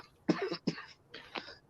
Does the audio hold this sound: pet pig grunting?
no